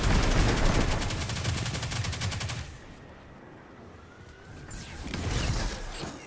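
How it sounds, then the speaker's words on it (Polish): Rapid automatic gunfire from the Destiny 2 video game, loud and dense for about three seconds, then a quieter lull before another heavy burst of shots near the end. "strzelają do mnie"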